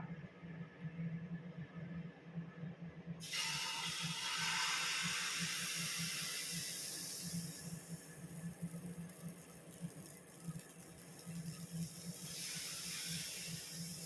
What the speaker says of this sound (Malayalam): ഇനി നമുക്കിതിലേക്ക് മാവ് ഒഴിച്ച് കൊടുക്കാം